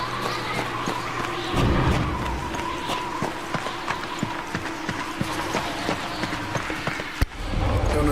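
Horse hooves clip-clop steadily on hard ground in the video game Darksiders 2, a regular run of close, crisp knocks over a continuous ambient game background.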